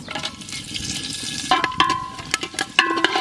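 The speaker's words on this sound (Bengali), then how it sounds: "ওই তেলেই আমরা রান্না করব গোটা গরম মশলা ফোড়ন" Whole garam masala spices crackle and sizzle in hot oil left over from frying eggs and potatoes, with close stirring clinks and scrapes punctuating the steady frying hiss.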